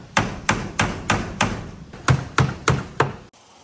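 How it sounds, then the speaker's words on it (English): Galvanized casing nails driven through brick molding while installing a 36-inch service door: about ten sharp, evenly spaced hammer strikes, loud and close, with no talk, ending in sudden quiet. "I just got to nail a few galvanized casing nails through the brick"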